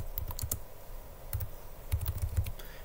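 Rapid keystrokes on a computer keyboard while typing Python code, coming in short uneven bursts of clicks with pauses between them, close and fairly quiet, with no talk.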